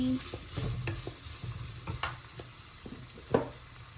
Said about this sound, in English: Keep sauteing it nicely.